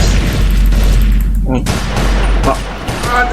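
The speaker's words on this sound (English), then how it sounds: "Oh, it's a burst pistol." Burst pistol fire in a shooter video game rattles in quick volleys amid loud game noise, with a person talking over it.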